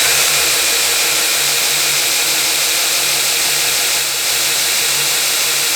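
A belt grinder for knife sharpening runs slowly on a variable frequency drive, giving a steady, loud, unbroken whirring drone with a faint hum beneath it and no voices.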